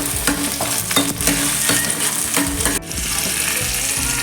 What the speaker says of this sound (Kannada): ಈರುಳ್ಳಿ ಒಂದು ಎರಡು ಹಸಿಮೆಣಸಿನಕಾಯಿ ಸ್ವಲ್ಪ ಶುಂಠಿ ಒಂದು ಟೊಮೆಟೊ ಹಾಕಬೇಕು ಫ್ರೈ ಮಾಡಬೇಕು